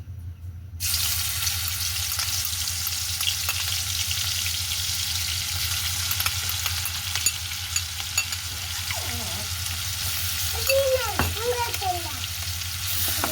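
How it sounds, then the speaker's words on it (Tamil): Ginger garlic paste sizzles steadily in hot oil for a chicken pickle, a continuous close frying hiss with light stirring clinks, no talk over it. "அதுக்கு முதல்ல நாங்கள் இடித்து எடுத்து வச்சுருக்கிற இந்த இஞ்சி உள்ளி பேஸ்ட்டை போட போகிறோம்"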